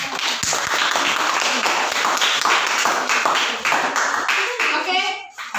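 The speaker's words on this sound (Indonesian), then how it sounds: "Silakan tepuk tangan bagi kelompok" Classroom students clapping for a group after their class presentation, a lively burst of many hands with a few individual claps standing out, voices chattering alongside before the applause tapers off.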